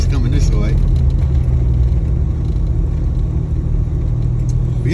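Heavy vehicle traffic near a stop sign, with a dump truck driving past: a loud, steady low engine rumble and road roar that holds for the whole stretch, with a brief mid-range whine early on.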